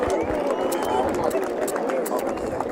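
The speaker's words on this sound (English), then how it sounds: "The crowd very appreciative of that" Spectators at a schoolboy First XV rugby match between Palmerston North Boys' High and New Plymouth Boys' High give a steady, broad roar of appreciative cheering from a distance, with a commentator's voice over it.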